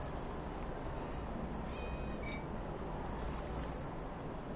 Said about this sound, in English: I swear to God, I just heard a cat meow in-game.